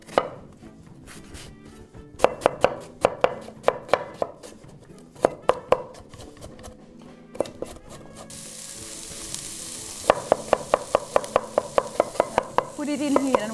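A knife chops onions on a board in a home kitchen, in quick rhythmic bursts of sharp taps, pausing midway while a faint sizzle rises, then a steady run of close, crisp chops.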